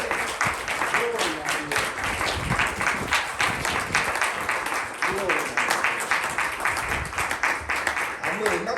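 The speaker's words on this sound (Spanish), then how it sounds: "Dale un aplauso al Señor." A church congregation applauds after a sermon, steady dense clapping sustained throughout with voices and shouts mixed in.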